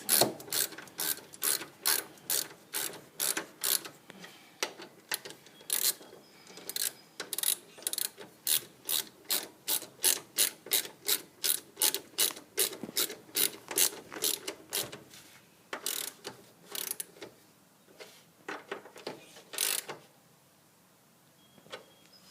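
A ratchet tightens bolts on the brake of a John Deere lawn tractor during a brake pad replacement, giving close, rapid bursts of crisp clicking in a steady rhythm with a short pause near the end and no voices.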